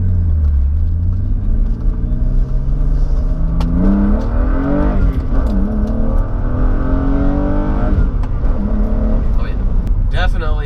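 A modified car engine accelerates hard and shifts gears, its rising pitch dropping at each shift several times in a row, loud and close throughout from inside the cabin.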